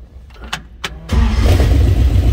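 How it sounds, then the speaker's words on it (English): A 1928 Ford Model A street rod with a flathead engine cranks a couple of times, then fires and settles into a loud, steady rumbling run close by. "Let's go ahead and fire this up and hear it run."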